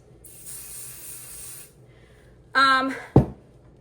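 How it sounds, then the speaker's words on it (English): Basting spray from an aerosol can sprayed onto embroidery stabilizer, a steady hiss lasting about a second and a half, followed by a brief voice and a sharp thump. "I'm going to use my basting spray"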